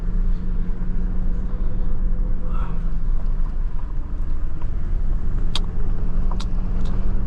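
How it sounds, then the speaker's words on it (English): A Toyota Land Cruiser grinds up a steep off-road slope of almost 30 degrees, giving a loud, steady low engine rumble with wind buffeting the microphone and a few faint clicks and creaks. "I really love this car."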